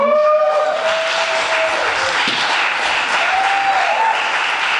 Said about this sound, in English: Can we have a round of applause for Ruben?